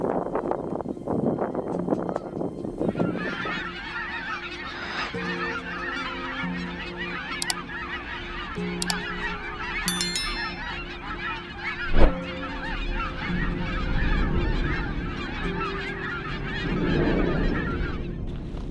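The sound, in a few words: wild geese honking in Florida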